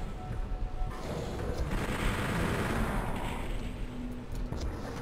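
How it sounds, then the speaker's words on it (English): Rapid chain gun fire from the Doom 64 video game, a dense continuous rattle of shots running steadily through the whole stretch at fairly loud level, with faint game effects mixed in. "So I think if you keep shooting these guys with your chain gun,"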